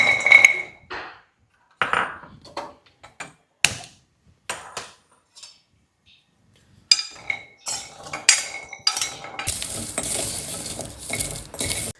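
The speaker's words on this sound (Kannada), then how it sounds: "ಸೊ ಈಗ ಇದನ್ನು ಹುರ್ಕೊಳ್ಳೋಣ." Jackfruit seeds roasting in a pan are stirred with a metal spoon, giving irregular scraping clinks and rattles separated by quiet gaps, then a denser stretch of stirring with faint sizzle near the end.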